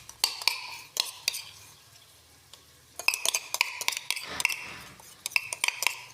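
Ginger garlic paste is fried in oil in a pan after onions for chicken masala, with a spoon clinking and scraping the pan in quick bursts over a faint low sizzle.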